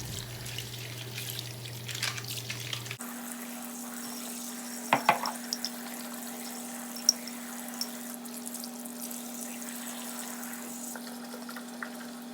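Tap water running into a container of makeup sponges, a steady low hiss and trickle throughout with a few brief splashy bursts near the middle, quiet and close with no talking.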